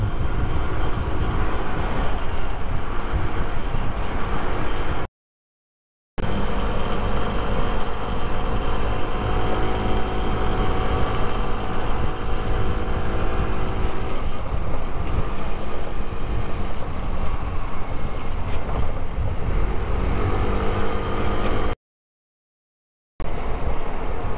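An SYM Jet RX 125 scooter climbs an uphill road with a continuous loud engine drone and rushing wind, broken by two short silent gaps.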